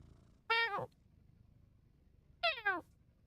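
A person's voice imitates a cat's meow twice, each a short, bending, nasal call with a pause between, delivered fairly quietly over faint background hum.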